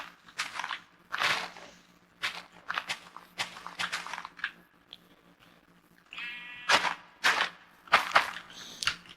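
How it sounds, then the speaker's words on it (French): Sheep in a blocky video game bleat in short bursts among scattered clicks and taps, mostly quiet with a few louder calls. "Ça nous permettra d'avoir des moutons."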